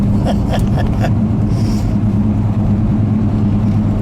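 A 1969 Pontiac GTO with a 400 Ram Air III engine and four-speed gearbox cruises along, its exhaust a constant deep rumble that fills the cabin, with light clicks and rattles at the start.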